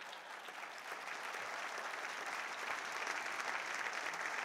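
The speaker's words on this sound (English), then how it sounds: "go ahead, you can clap for him." An audience at Mayor Duggan's 2014 State of the City address in Detroit applauds steadily, a dense even wash of clapping that swells slightly toward the end.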